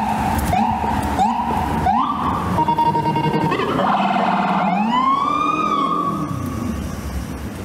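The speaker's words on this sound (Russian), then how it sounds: "А нет, это скорая." An ambulance siren wails on a New York street, its pitch rising and falling in repeated sweeping cycles, loud and close, with city traffic rumbling underneath.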